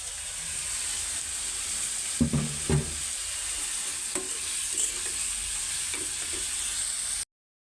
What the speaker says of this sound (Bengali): আমি এখানে সব মশলা দিয়ে দিছি, লাল লাল করে ভাজছি।